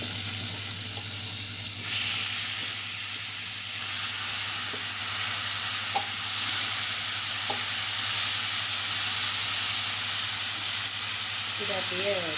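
Washed goat head meat hits a pan of softened onions and fries with a steady, loud sizzle and hiss, broken by occasional clinks of stirring; a brief voice surfaces near the end.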